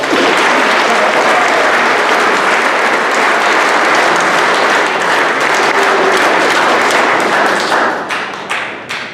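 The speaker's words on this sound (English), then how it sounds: "Let's give a round of applause." An undergraduate awards audience applauds loudly and steadily, a dense wash of many hands clapping that holds for about eight seconds before thinning out at the end.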